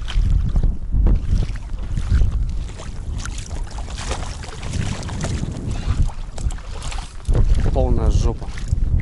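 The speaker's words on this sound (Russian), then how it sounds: "Снегоход, конечно, мощный." A powerful snowmobile rides across ice, its engine droning loud and close, buried in heavy wind buffeting, with people talking over it.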